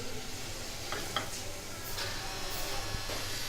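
Lemon rice being stirred in a pan, with faint scraping and soft shuffling of rice over a low sizzle, and a few quiet clicks of the utensil against the pan.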